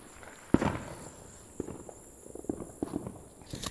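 Fourth of July fireworks pop and thud outside at a distance, a few scattered faint bangs with footsteps of someone walking around.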